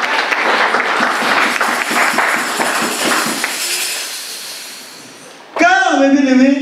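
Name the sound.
congregation applauding in church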